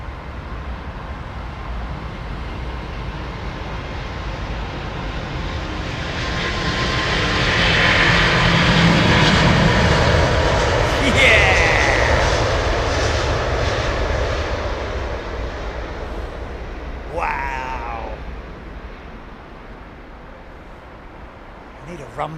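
An airliner lands at London Heathrow Airport at night, its engine roar swelling to a broad, loud rumble as it passes, then slowly fading, with a voice talking over it.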